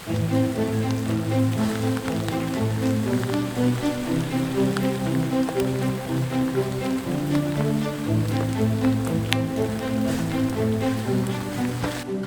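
Heavy rain patters steadily on a tent during solo camping. The dense drumming is close and loud, with scattered sharper drops, and no voices are heard.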